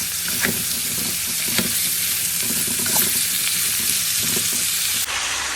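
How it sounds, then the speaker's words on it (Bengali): Vegetable bhaji fries on high heat with a loud, steady sizzle, while a utensil scrapes and stirs the pan in a loose, repeated rhythm; close and without speech. "ভাজিটা একদম হাই স্পিডে রান্না করতে হবে"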